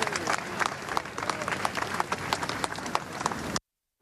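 A crowd at a funeral ceremony applauds in dense, sustained clapping, loud and close, then the sound cuts off abruptly.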